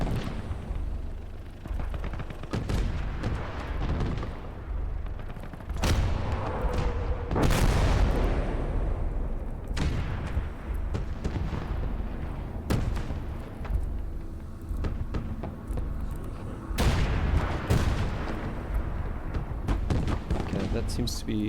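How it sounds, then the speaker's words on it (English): Repeated deep artillery booms and blasts from a WWII Eastern Front battle between Soviet and German forces in the strategy game Call to Arms Gates of Hell: Ostfront, rolling and loud throughout with someone speaking over them. "Some more artillery here."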